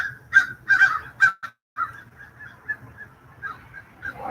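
Crows calling in a rapid series of harsh, honking caws, with a brief pause partway through before more calls follow at moderate loudness.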